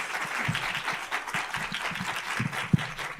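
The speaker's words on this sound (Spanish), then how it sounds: "Pues le damos un aplauso de bienvenida" An audience at a seminar gives a welcoming round of applause for the speaker, a moderate spread of clapping with a few sharper individual claps.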